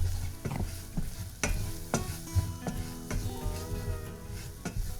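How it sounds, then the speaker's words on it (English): Turmeric, ground cumin, ground coriander, chili powder and salt fry in a pot, giving a steady close sizzle. A spoon stirs through it with sharp scraping clicks against the metal, and no one speaks. "Add turmeric, ground cumin, ground coriander, and chili powder, along with some salt. Cook for 10 seconds."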